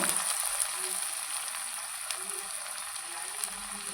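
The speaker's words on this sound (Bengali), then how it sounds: "এখন আমি ছোট ছোট করে, দেখুন এই রকম ছোট ছোট করে পকোড়া ভেজে দেব" Cauliflower pakoras deep-fry in oil in a small wok: a soft, steady hiss with a few faint crackles, fairly quiet throughout.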